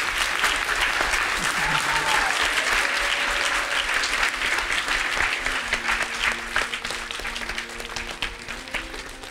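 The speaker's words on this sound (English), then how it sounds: "Let's have another round of applause for Stuart Sender." A large audience at a special gathering with Supreme Master Ching Hai gives sustained, loud applause for Stuart Sender, a dense continuous roar of clapping that holds steady from start to finish and eases only slightly near the end.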